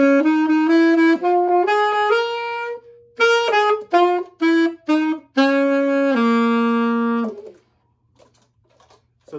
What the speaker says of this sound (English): So I can play some jazz on the saxophone